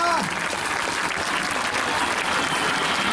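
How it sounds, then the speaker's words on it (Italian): An outdoor air show crowd at Jesolo applauds the Spanish Air Force's Patrulla Águila aerobatic team, a loud, continuous spread of clapping that follows a brief voice at the very start. "Un forte applauso per la pattuglia Águila."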